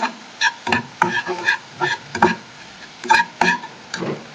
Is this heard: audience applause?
no